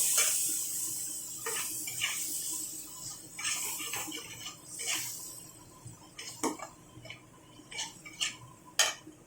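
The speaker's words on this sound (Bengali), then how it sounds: "দিয়ে একটু মশলাটা নাড়াচাড়া করে নেব" A spoon stirs spice masala with a little water in a pan for veg soyabean dal, producing intermittent metallic scrapes and clinks against the pan over quiet background hiss, growing sharper toward the end.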